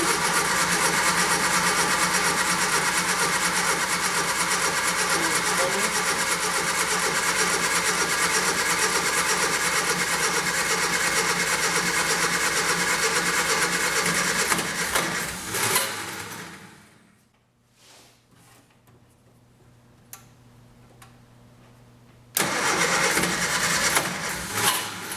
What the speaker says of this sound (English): we'll try to start the engine.